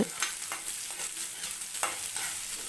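Shallots sauté in hot oil, a close crackling sizzle with repeated scraping strokes of a spoon roughly every half second, steady and without speech.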